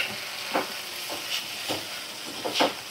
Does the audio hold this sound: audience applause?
no